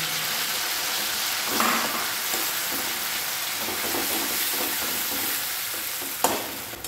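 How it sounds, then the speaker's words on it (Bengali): Roasted eggplant goes into a pan of chicken for begun chicken bharta, giving a steady close sizzle and frying hiss with a few stirring scrapes and one sharp clatter near the end. "এখন আমি বেগুনটা যে পুড়িয়ে রেখেছিলাম, বেগুনটা দিয়ে দিলাম।"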